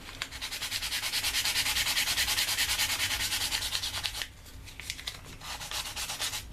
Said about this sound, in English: So I'm just going to use the 150 and just sand this down a little bit.